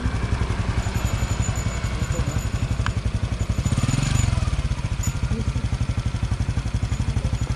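A motorcycle engine idles nearby with a rapid, steady chugging pulse, swelling briefly louder midway before settling back.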